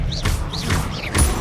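Expelliarmus spell cast in the Hogwarts Legacy video game, three short whooshing magical bursts with a bright rising-falling shimmer, spaced about half a second apart over a low steady rumble.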